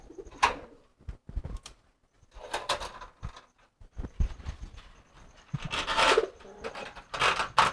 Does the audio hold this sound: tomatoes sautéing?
no